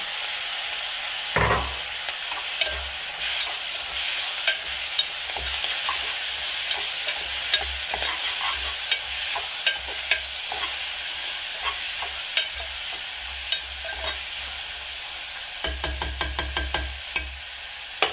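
Bilimbi cooking in a pan on low heat gives a steady sizzle and frying hiss, with frequent clicks and scrapes of a spoon stirring, and a brisk run of stirring taps near the end.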